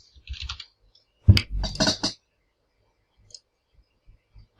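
Quick clicking keystrokes on a computer keyboard come in two short bursts close to the microphone, then a few faint scattered taps in an otherwise quiet room.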